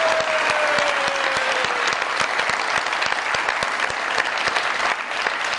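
Loud studio audience applause welcoming former Punjab governor Chaudhry Muhammad Sarwar onto a comedy talk show stage, dense sustained clapping close to the mics without a break.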